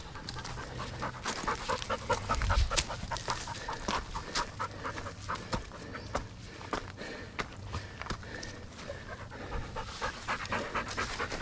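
A dog pants steadily and rapidly on a hike, close by, alongside crunching footsteps on a trail for the whole stretch.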